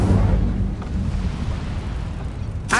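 A fire spell cast in a Hogwarts wizarding game bursts out as a deep rumbling whoosh that roars up loudly at the start and rolls on steadily before a brief crackle near the end.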